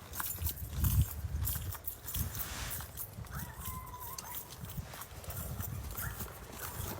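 Steady clip-clop of horse hooves trotting at an even rhythm on hard ground, close by, with faint background noise.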